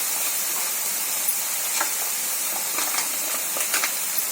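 Cauliflower pieces frying in a pan for Gobi Manchurian give a steady, dense sizzling hiss, with a few brief louder crackles and pops toward the end, close and without talk.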